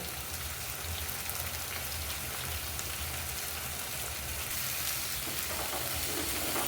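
Everest Shahi biryani masala frying in a pan for paneer biryani, giving a dense, steady hiss of sizzling with faint stirring beneath; constant and close throughout, without any talking.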